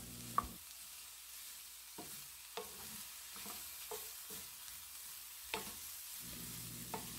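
Broccoli, other vegetables and brown rice stir-fried in a pan with little oil for a cream risotto, heard as faint, sparse taps and scrapes of a spatula over a soft, steady hiss.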